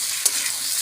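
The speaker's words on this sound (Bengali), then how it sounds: "ভালো করে আমি ভেজে নিয়েছি, দেখুন একদম লাল লাল করে" Bori lentil dumplings fry in hot oil until reddish, giving a brief, steady sizzling hiss with a small clink of stirring partway through.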